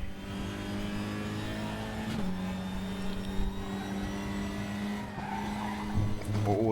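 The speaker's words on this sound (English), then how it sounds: "lift off oversteer there at the high speed" A race car in the RaceRoom racing video game skids in lift-off oversteer at high speed, its steady engine drone joined by a sustained tire squeal and sliding tones.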